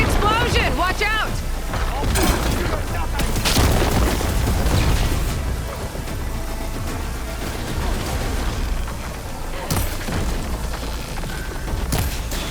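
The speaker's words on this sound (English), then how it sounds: "Hey, big explosion! Watch out!" Loud battle noise from the video game Horizon Forbidden West, with heavy booming explosion blasts and crunching mechanical impacts, layered with shouting voices throughout.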